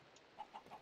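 A chicken in the Minecraft video game gives a few short, faint clucks in quick succession over a quiet background.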